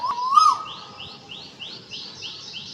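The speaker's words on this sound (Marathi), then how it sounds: "दररोज पक्षी येऊन बसतात आणि खूप सुंदर आवाज करतात." Birds chirping in the morning, one sharp bright call near the start followed by a rapid series of repeated high chirps, clear and moderately close against a quiet background.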